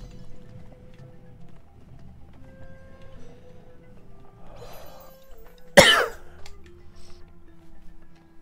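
A single sharp cough bursts out once, loud and close, over a quiet background of soft game sounds during play of The Legend of Zelda: Echoes of Wisdom.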